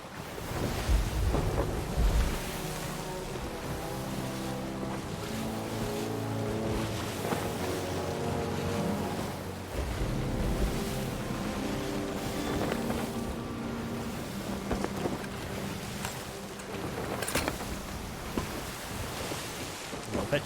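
Wind blowing over the open sea in the Sea of Thieves video game, a steady airy rush with waves and ship creaks layered beneath a musical score, continuous throughout without talk.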